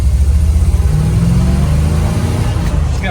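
A 1967 Chevrolet Camaro SS/RS pulls forward in first gear, its engine rumbling loud and close with a steady low drone that rises slightly in pitch as it moves off.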